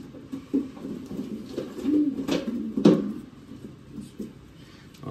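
Racing pigeon cooing at home during a 400 km derby season, soft repeated coos close by over low background noise, with no talking.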